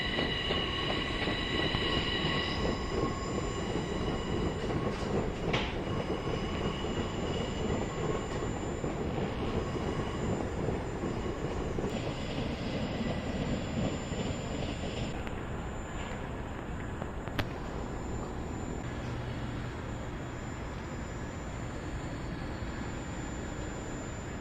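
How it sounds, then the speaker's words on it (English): A train rumbles past steadily at moderate distance, wheels grinding and squealing faintly on the rails, with a continuous low roar throughout. "This rooftop's a really nice place to watch the trains."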